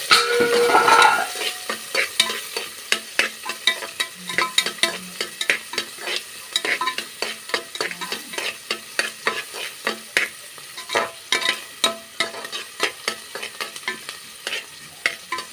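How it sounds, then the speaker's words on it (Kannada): Onions frying in a pan with a constant crackling sizzle, cut by a steady run of rhythmic stirring scrapes, close and loud, with no talk. "ಈರುಳ್ಳಿ ಹಚ್ಕೊಂಡಿದ್ದೀನಿ ಈರುಳ್ಳಿನ ಫ್ರೈ ಮಾಡ್ಕೊಬೇಕು"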